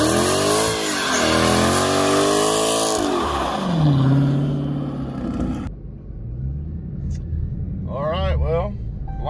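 A Whipple-supercharged 2018 Dodge Challenger T/A 392 revs hard with line lock engaged, its loud, rising engine roar and strained rumble dominating for several seconds before dropping off, followed by quieter mechanical sound and a brief voice.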